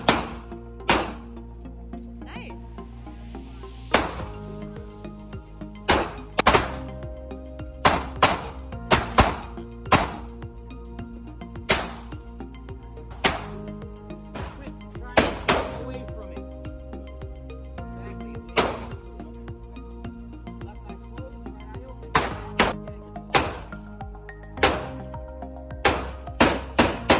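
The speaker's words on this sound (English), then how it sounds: "I'm gonna go shoot." Gunshots at an indoor shooting range: sharp, muffled bangs at irregular intervals, some single and some in quick clusters, with a dull hum between them.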